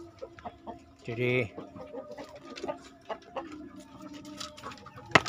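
A flock of brood hens clucks nearby, one loud drawn-out cackle followed by scattered short clucks and pecking sounds, with someone briefly speaking over them.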